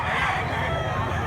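A gamecock crows during a weighing session, a single brief near crow with a throaty, sustained tone against background noise.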